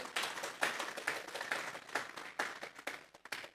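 A church congregation claps hands as an offering of praise to God during a Spanish-language sermon, with dense, uneven crowd clapping in bursts and no talking.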